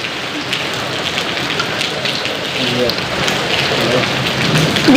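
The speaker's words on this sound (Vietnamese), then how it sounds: "mưa" Steady, dense rain pours down outdoors, a loud continuous hiss of drops on surfaces that swells slightly toward the end, with no clear voices.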